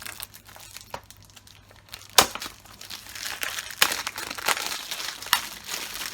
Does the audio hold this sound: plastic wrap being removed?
yes